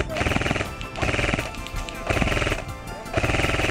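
Airsoft guns fire in repeated bursts during an outdoor UK skirmish, with G36-style rifles rattling off rapid rounds in four distinct volleys, loud and close, with players shouting between them.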